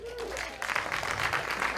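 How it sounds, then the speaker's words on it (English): Brief scattered clapping from a comedy club audience, married members responding to a comedian, starting after a short voice and building into a modest, moderately loud patter. "Clap if you're married."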